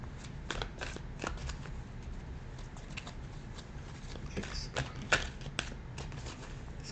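Tarot cards are shuffled close by in a quiet room, a soft continuous riffle with repeated sharp papery flicks and taps at uneven intervals, fairly faint.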